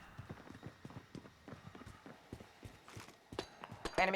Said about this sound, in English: I keep hearing footsteps, man.